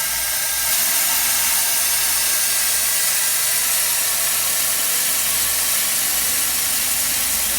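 Compressed air rushes steadily out of an AST Kodiak M2 sprayer with a small tip and narrow line, a loud continuous hiss that holds unchanged throughout.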